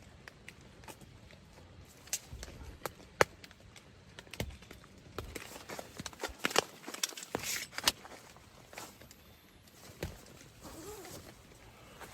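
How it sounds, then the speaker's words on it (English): Footsteps pass outside a tent in a forest at night, a run of uneven crunching steps on the ground close by, growing busier midway through and tapering off toward the end, with no talking. "I hear footsteps. There's something outside my tent"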